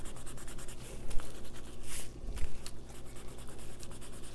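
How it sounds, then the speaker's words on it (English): A kneaded eraser rubs pencil marks off watercolor paper, giving close, continuous scratchy rubbing strokes in a quick repeating rhythm, alone with no talking. "and take away all the pencil marks."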